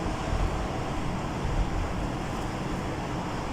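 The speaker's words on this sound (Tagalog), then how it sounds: "Mahangin, no?" Steady outdoor wind blows across a garden of potted plants, a loud, continuous rushing roar buffeting the microphone with low rumbling gusts and no talking.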